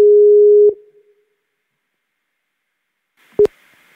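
A Skype outgoing call tone plays a steady electronic beep that cuts off after under a second, followed by silence and then a second short beep near the end.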